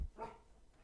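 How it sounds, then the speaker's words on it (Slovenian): A single dog bark rings out once near the start, fairly close but modest in level, then fades into quiet background. "Ja, spet pes."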